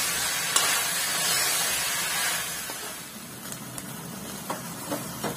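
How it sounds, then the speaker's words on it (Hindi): Tandoori chicken pieces frying in a kadai, with a steady close sizzle and hiss broken by occasional faint stirring clicks and scrapes, no talk. "तो काफी हद तक पानी जल जाए तो हम और अच्छे से भून लेंगे ताकि थोड़ा सा है और भी पक जाएंगे।"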